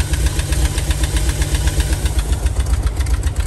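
A 1987 VW Vanagon Syncro Westfalia engine runs loud and close, a steady low rumble with a fast, even pulsing rhythm and no talk.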